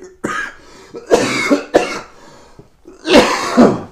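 Several harsh, chesty coughs in separate bursts, loud and close, with short pauses between them and no talking.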